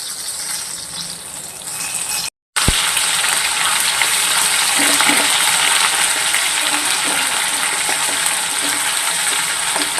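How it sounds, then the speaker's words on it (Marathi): Garlic and two green chillies fry in hot oil for a village-style drumstick curry, a steady close sizzle that fills the whole stretch, broken only by a brief silent gap early on. "दोन हिरव्या मिरच्या टाकलेल्या आहेत. लसूण थोडासा लालसर होऊन द्यायचा आहे."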